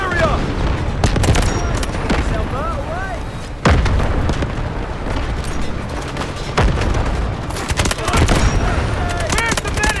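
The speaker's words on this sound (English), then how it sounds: "Artillery barrage incoming." Artillery barrage in the Delta Force military shooter game: a dense, loud run of booms and rapid gunfire that keeps up across the whole stretch, with shouted radio-style voices and chirping effects mixed in.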